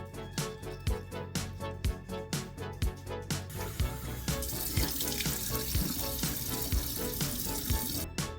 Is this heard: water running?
yes